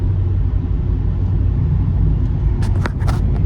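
A truck engine drones steadily while driving on the road, a loud, constant low rumble filling the cab with a few faint higher rattles near the end.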